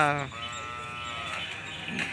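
A Kangayam calf at a cattle market cries with a drawn-out, close bleating call that fades after a couple of seconds, amid market background noise.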